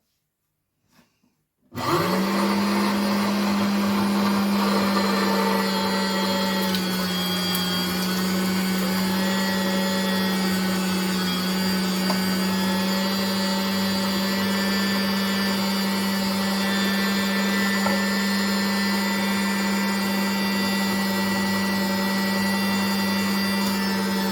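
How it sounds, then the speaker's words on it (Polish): An electric meat grinder minces strips of chicken breast through its finest-hole plate. It switches on after a moment of silence and then runs with a steady, loud motor hum and faint grinding texture for over twenty seconds. "mięso z piersi zmielę na najdrobniejszym oczku, jakie mam"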